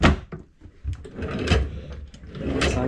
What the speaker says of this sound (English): First aid drawer.